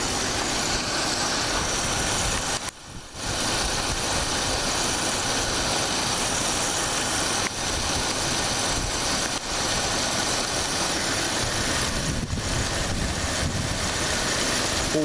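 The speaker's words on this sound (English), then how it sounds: "We'll whack the throttle a few times and see how it does." A 1987 Plymouth Gran Fury engine runs loud and close throughout, with a brief dip early on as the throttle is worked; no voices are heard.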